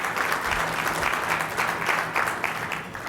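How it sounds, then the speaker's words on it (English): Sustained audience applause at a Louisiana education policy talk, dense steady clapping filling the whole stretch at moderate loudness with no voices over it. "Yes, we should definitely give them a round of applause, y'all."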